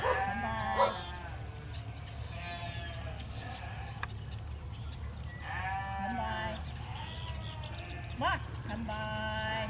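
Sheep bleat repeatedly while being herded by a dog, several calls overlapping from moderate distance, over a constant outdoor background with occasional voices.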